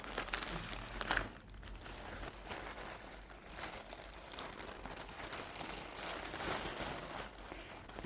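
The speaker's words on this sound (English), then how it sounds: "So I will open and show to you. It's going to be very crinkly." Crinkly plastic cookie packaging being opened close up, with dense, irregular crackling and crumpling rustles and a sharper tearing moment near the start, continuing at a steady, moderately loud level.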